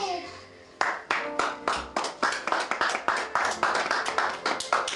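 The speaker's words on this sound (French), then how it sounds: "Acclamons pour le Seigneur." A church congregation claps together during a worship service, a steady rhythmic run of sharp hand claps that starts after a brief tonal lead-in and continues loud and close with some voices mixed in.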